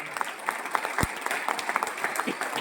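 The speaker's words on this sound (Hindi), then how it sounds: "तालियां बनती है एक बार जोरदार।" Moderate applause from a seminar audience in Hodal, uneven claps with a few sharper hits standing out, crowd noise beneath.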